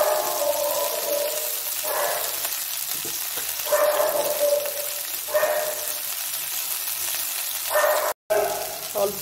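Gima saak greens fry with chopped garlic in a steady loud sizzle, with periodic stirring swells roughly every second or two, and a dog barks faintly in the background.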